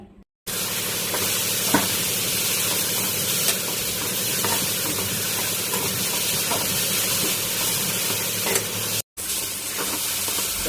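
Chickpeas, poppy seeds, coconut, tomato and spices dry roasting in a pan for chicken sambar, with a steady close sizzle and scraping stir strokes throughout, broken by a brief gap near the start and another near the end.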